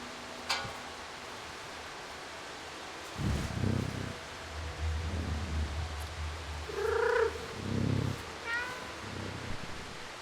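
Low, rumbling cat purring in the video game Stray swells in after a few quiet seconds, with a short meow rising over it partway through; steady background hiss throughout.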